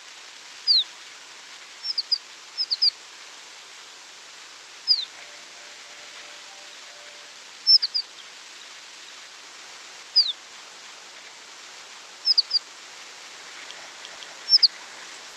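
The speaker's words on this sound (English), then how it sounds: "So that's its flight call, and this is the horned lark" Horned lark flight calls come as brief, high, thin notes, some single and some in quick pairs or triplets, spaced every second or two over a steady background hiss in a field recording.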